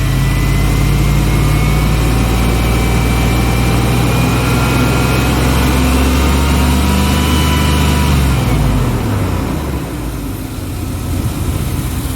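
A car engine idles steadily with a deep, loud, close hum, its tone shifting as the revs rise slightly, then the rumble drops away near the end, with no talk over it.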